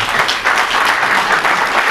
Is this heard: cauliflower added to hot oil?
no